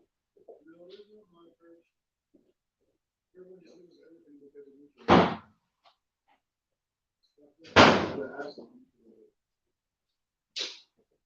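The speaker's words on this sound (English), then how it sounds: "Let me shut the door in here." A door being shut inside a house: three sharp, loud thuds spaced a few seconds apart, with faint voices murmuring between them.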